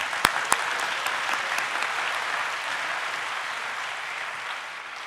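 A church congregation at a young adults' worship service applauds to welcome a missionary speaker, a full, even roar of clapping with a couple of sharp claps near the start that continues steadily and fades slightly toward the end.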